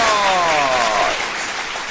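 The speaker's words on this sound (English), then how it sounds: "Big round of applause" A short burst of applause during a live coaching stream, a bright hiss of clapping with falling tones that quickly fades to a softer patter.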